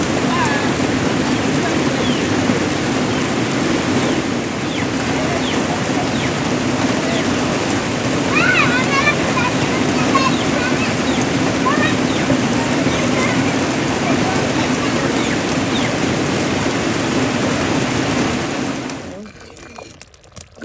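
Heavy outdoor rain pours down steadily in a dense, continuous hiss for about eighteen seconds, with faint background sounds mixed in, before cutting off abruptly near the end.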